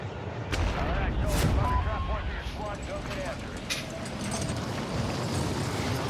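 Gunfire from a Fortnite match crackles through the clip in several sharp, close shots, the loudest burst early on, over a constant game soundscape.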